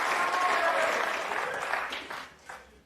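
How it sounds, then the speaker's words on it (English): A snooker crowd applauds excitedly during a frame involving O'Sullivan, with loud, dense clapping that tapers off toward the end while a commentator speaks over it. "The crowd getting excited."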